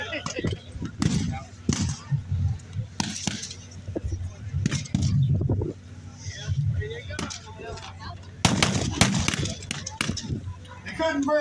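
Sharp cracking blank rifle shots at a Normandy battle reenactment ring out in irregular bursts, some clustered close together, with speech and background clamor underneath.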